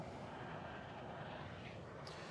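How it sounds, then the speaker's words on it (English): An airplane passes overhead above a California beach, its steady broad engine roar filling the air continuously at moderate, distant loudness, with no voices. "Usually I know which airplane is flying."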